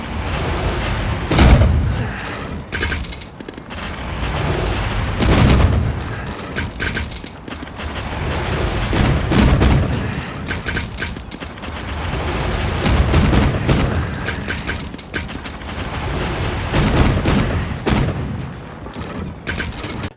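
Gunlance charged shelling in a Monster Hunter game, heavy booming explosions recurring every few seconds between mechanical clanks and ratcheting reload sounds, loud and close with no voices.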